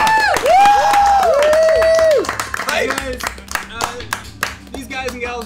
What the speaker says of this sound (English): Applause for all our streamers that came out.